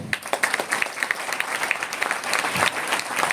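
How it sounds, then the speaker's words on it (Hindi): A large seated audience at a business training talk breaks into dense, sustained applause, loud and continuous for the whole stretch. "10 मिनट ताली बजा दीजिए"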